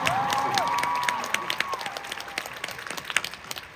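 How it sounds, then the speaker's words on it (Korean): An arena audience at a K-pop concert, the DREAMSHOW 3 encore show, applauds and cheers in a dense, steady wash of clapping that slowly eases off, with a few raised voices rising above it. "저희를 낳아주신 부모님 에게도 한 번 박수 부탁드립니다."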